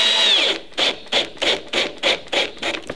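A power drill drives self-tapping screws into wood in a rapid run of short whirring bursts, about eight evenly spaced pulses following one longer spin, close and clear.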